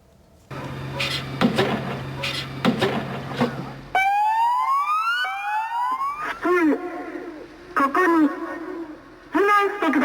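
A loud electronic tsunami warning siren in Japan sweeps upward in rising wails, starting after a stretch of talk and continuing with pulsing tones to the end.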